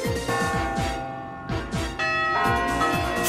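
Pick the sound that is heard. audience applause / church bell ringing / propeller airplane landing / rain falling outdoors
church bell ringing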